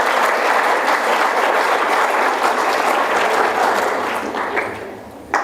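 A symposium audience gives a sustained round of applause for Sue Toten at Villanova University, the dense clapping steady and loud before thinning out and fading near the end.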